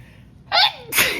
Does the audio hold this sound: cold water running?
no